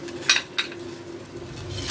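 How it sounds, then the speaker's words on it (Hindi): Sugar is tipped into a steel pot of tea on the stove, giving two or three sharp metallic clinks of a spoon against the pot over a faint background hum. "ये गई चीनी"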